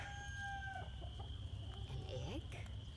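Rooster and hens on a farm, with faint clucks and a short crowing call over steady low rumbling background noise.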